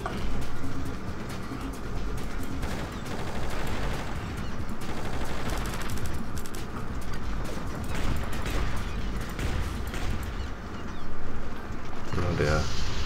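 Sustained game gunfire from Just Cause rattles in continuous loud bursts over heavy rumbling vehicle and explosion noise, dense and unbroken, with players talking over it.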